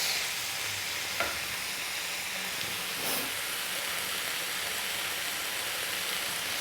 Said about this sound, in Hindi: तो सब्ज़ी थोड़ा भुन गई है